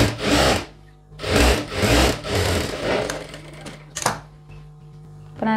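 Sewing machine stitching a chudidhar top, running in several close bursts of whirring, rasping mechanical noise separated by short pauses, with a sharp clack near the end and no voices.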